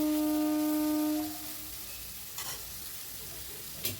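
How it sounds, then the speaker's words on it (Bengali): Bitter gourd frying with turmeric and salt while being stirred steadily, a constant even sizzle, with a sustained humming tone at the start that fades out and a couple of soft knocks later. "এটাকে আমি নাড়াচাড়া করে ভাজা ভাজা মতো করে নেব। অনবরত কিন্তু নাড়ছি দেখুন।"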